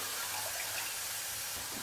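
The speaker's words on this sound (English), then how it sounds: "I'm going to add my milk" Milk is poured into a pot of water heating on the stove, a steady, soft liquid splash and rush running continuously throughout, close and moderately quiet.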